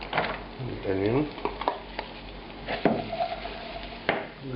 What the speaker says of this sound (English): In a pan, it's getting hot on the stove, adding the oil, the onion.